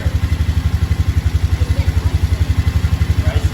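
A Polaris Sportsman ATV engine runs close by with a steady, pulsing low throb that holds evenly throughout, with no voices over it.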